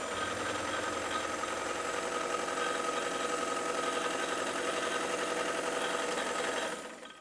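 A vintage Kenmore sewing machine runs at a steady, even whir with fine mechanical chatter, close and continuous, before winding down at the end.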